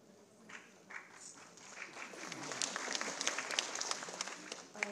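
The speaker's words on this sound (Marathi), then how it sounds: "नुसतं नमस्काराला तुम्ही टाळ्या वाजवल्या" Audience applause at a Marathi speech event by Nivedita Saraf, starting sparse and swelling into steady clapping from a crowd at moderate distance.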